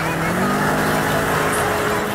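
Stolen hearses doing donuts, their engines roaring in a continuous dense wash of car noise with a steady revving drone and no clear breaks throughout.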